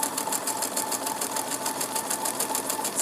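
A sewing machine runs a steady, fast stitching pass on a quilt applique test strip, its even mechanical rhythm continuous and close, with no voices.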